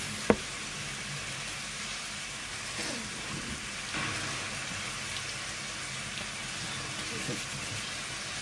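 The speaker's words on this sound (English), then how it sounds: "I realized I was going to have to turn to my relaxing rain sounds app" Steady rain from a relaxing sleep sounds app, a continuous soft hiss of drops at low volume with a few faint distant rumbles and no talk.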